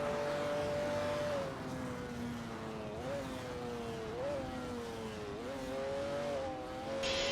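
Retro supercars race in an AI video game simulator, engines droning steadily with rising and falling pitch as the cars accelerate and shift, a continuous mid-level roar without voices.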